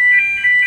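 A door alarm sounds close and loud: a shrill, steady electronic tone pulsing in repeated beeps with no talking.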